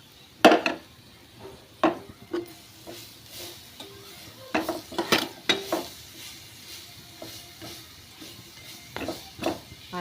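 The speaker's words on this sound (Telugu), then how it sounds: "ఆయిల్లో ఫ్రై చేసుకోవాలి." Grated carrot frying in oil for carrot rice: a soft sizzle runs underneath while a spoon clinks and scrapes against the pan in scattered bursts, with no talking.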